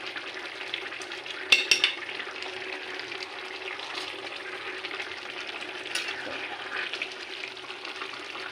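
Curry spiced with cumin and coriander powder frying in a pan, a steady soft sizzle throughout with a few sharper scraping clacks of a stirring spoon near the start.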